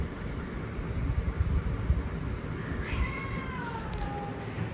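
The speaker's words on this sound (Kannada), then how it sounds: "ಗಲ್ಲಿ ಬೆಕ್ಕುಗಳ ಜಗಳ ಆಗ್ತುಂಟು" Street cats fight at night, a drawn-out rising and falling caterwaul wailing over a rough, noisy background rumble, fairly close and with no one talking.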